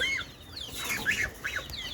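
Poultry chickens on a small home farm cluck and squawk in short, overlapping calls close by, over a steady low background hum.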